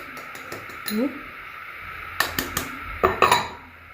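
A spoon stirs baking powder and starch in a bowl while tea biscuits are being made, giving scattered light clinks and scrapes against the bowl, with a quicker cluster of knocks near the end.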